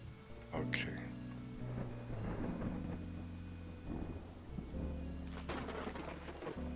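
Rain and rolling thunder in the Autonauts video game, a steady broadband patter with low rumbling bursts over a sustained tonal music bed, moderately loud throughout.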